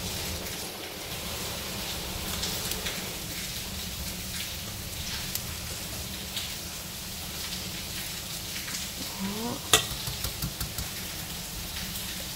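Soaked sticky rice and mung beans are tossed together with salt and cooking oil, making a steady, soft, grainy rustle close by, with a faint hum underneath and a few sharper clicks near the end.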